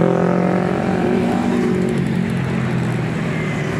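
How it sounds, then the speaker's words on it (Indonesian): A loud, steady engine roar from motorcycles racing by close at hand on a holiday homecoming road trip, with a continuous rumbling drone and no pauses. "Ini pemudik-pemudik motor mantap. Kencang-kencang banget"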